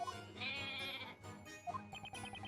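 A baby goat in Professor Layton vs Phoenix Wright gives a long, wavering bleat up close, then a short run of quick, higher bleats, with light chiming game sounds beneath.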